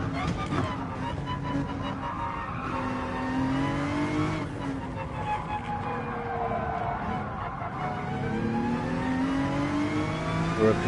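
Race car engines drone steadily through a PS4 racing game, rising and falling in pitch as cars accelerate and pass, with brief tire noise and a voice talking over the continuous roar.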